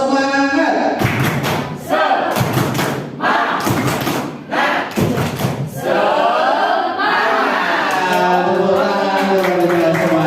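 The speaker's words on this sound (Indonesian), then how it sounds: "Kasih tepuk semangat lagi Pak." An audience performs a rhythmic spirit clap (tepuk semangat) at an Indonesian teachers' gathering, with sharp bursts of clapping in a patterned beat, interleaved with voices chanting along.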